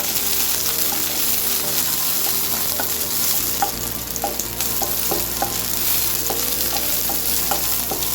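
Okra sautés in a pan over low flame with a loud, continuous sizzle and hiss, broken by occasional soft stirring scrapes close by.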